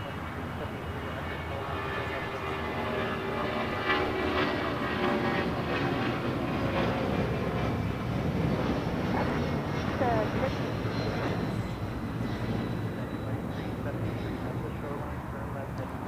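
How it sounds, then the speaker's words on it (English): A Delta Air Lines Boeing 757-200 takes off from LAX bound for Washington National, a sustained deep jet roar and rumble that holds steady and then thins out, with people talking throughout. "This is Delta Airlines Flight 392 taking off to Washington National on a 757-200"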